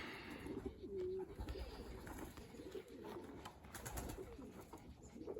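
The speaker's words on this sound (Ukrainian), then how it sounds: "Це бордюхи, простяки, які хочуть потрапити до нас в голубник" Stray pigeons coo continuously and close by near a pigeon loft, with low, overlapping rolling calls filling the whole stretch.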